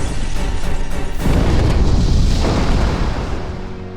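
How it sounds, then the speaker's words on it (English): A factory explodes in a deep, loud rumbling boom that swells after a second and rolls on with crackling debris and fire, then slowly fades. "The factory explodes."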